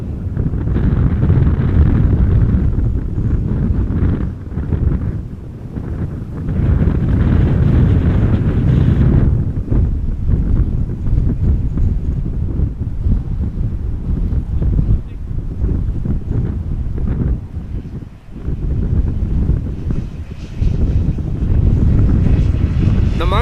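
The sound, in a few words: strong crosswind at Amsterdam Schiphol Airport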